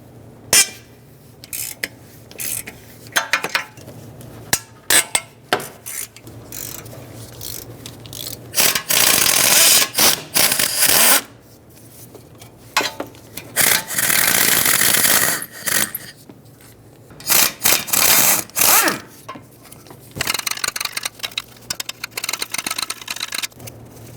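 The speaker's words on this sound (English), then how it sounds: "starting with the outermost bolts or nuts, and then work my way towards the center." Loosening exhaust manifold bolts or nuts on a 2012-2017 Toyota Camry, heard as repeated bursts of a close, loud power tool whirring in runs of several seconds, separated by quieter metallic clinks and handling noises.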